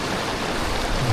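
A monsoon waterfall near a temple pours down from above in a loud, continuous, hissing roar of falling water, close by and without talking.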